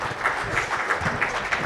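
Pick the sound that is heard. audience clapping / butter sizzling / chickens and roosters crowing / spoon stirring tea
audience clapping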